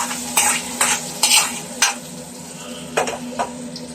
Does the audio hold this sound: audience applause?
no